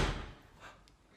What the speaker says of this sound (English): Okay, now we're closing the door.